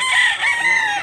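A gamefowl rooster on a farm crows once, a short, loud, close call with a rising and falling strained tone and no talk over it.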